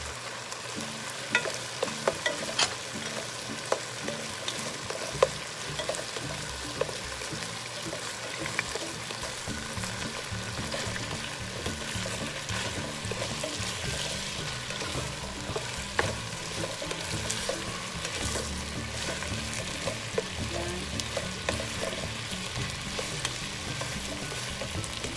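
Onions sautéing and being stirred in a pan for chicken pochero, a steady close sizzle with frequent scraping and clinking stirs running throughout, no voices.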